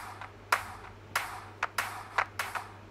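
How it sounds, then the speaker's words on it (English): Trap-style clap samples, six sharp bright hits in a syncopated pattern, alternating between the left and right of the stereo field over a faint steady low hum. "we have two just trap claps, one of them panned right and then one of them panned left"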